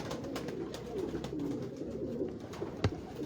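Purple-footed pigeons on a rooftop in Lahore coo repeatedly in low, rolling calls, near and clear, with light background noise and a sharp tap late on.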